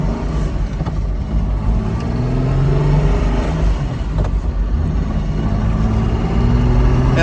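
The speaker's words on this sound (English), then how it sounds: "Mercedes isn't known for its engine and/or exhaust noises, but these early sixes, at least with the exhaust that this particular customer has on it, is killer" An early Mercedes-Benz SL 230 inline-six with an aftermarket exhaust hums steadily close by, a low, even engine note that swells slightly as it revs.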